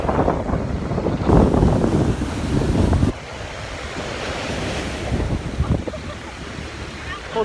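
Sea waves wash and surge at the seaside while strong wind buffets the microphone, loud and close, with a rough roar that drops partway through; faint voices talk in the background.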